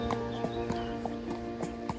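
Horses' hooves clip-clop at a steady walking rhythm on a forest track during a pleasure ride, fairly close but soft, with a faint steady hum underneath.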